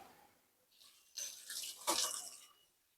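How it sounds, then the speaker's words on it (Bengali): Tap water runs in short bursts over fresh fish being rinsed in a home kitchen, starting softly, then swelling into two louder splashing gushes before fading out, with no voices. "এগুলো আমি একটু একটু করে ধুই"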